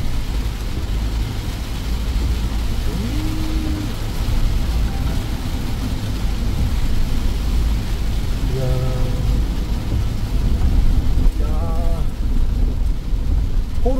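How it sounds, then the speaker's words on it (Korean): Heavy rain pours steadily as a dense, continuous hiss heard from inside a moving car on a road in Busan, South Korea, with a couple of short electronic chimes rising above it. "소나기가 쏟아지고 있습니다."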